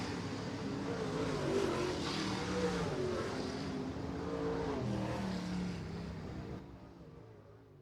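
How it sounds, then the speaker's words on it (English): UMP late model race cars at Merritt Speedway roaring in a steady, distant blended engine drone as the pack circles the dirt oval, fading slightly near the end. "Coming up for your All-Star Performance UMP Late Model Heat number 2 as they make their way out of turn number 4."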